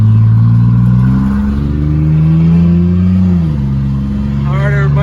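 A Chevy S10 pickup with no muffler held at full throttle during a burnout, its loud raw exhaust droning steadily, dipping briefly in pitch and climbing again, close and dominant throughout.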